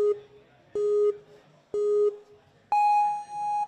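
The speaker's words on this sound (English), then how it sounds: "When it's time for you to run, you are gonna hear the following tones." Start tones from a NinjaWorks timing system at a ninja obstacle course qualifier: three identical sustained beeps in steady rhythm, then a final higher, longer tone, loud and clear.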